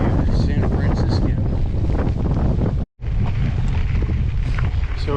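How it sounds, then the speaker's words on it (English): A strong headwind buffets a touring cyclist riding along farm country roads, roaring into the microphone as loud, continuous gusting noise with one brief dropout. "So we're back into the headwind again, which means for some slow progress."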